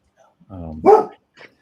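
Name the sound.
dog barking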